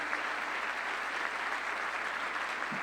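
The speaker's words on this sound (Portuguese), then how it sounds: "Queria pedir uma salva de palmas para a família." Steady, dense applause from a large audience at the Fórum da Liberdade 2025 event, a continuous wash of many hands clapping with no talking over it.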